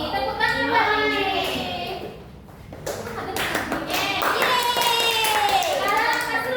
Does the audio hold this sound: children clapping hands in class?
yes